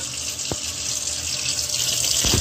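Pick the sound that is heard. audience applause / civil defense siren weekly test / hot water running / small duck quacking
hot water running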